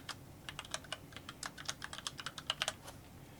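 Fingers type a password on a computer keyboard in a quick, irregular run of light, close keystrokes against a quiet room.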